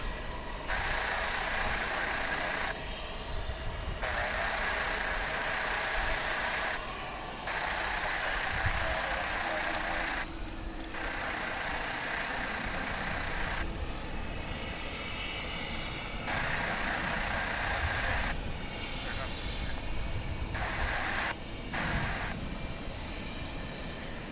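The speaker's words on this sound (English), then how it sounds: "Yes, a 1997 vintage tri-jet." A 1997 tri-jet airliner at Dallas/Fort Worth International Airport roars with broad, sustained engine noise that swells and fades in bands, heard from a distance alongside background airport activity.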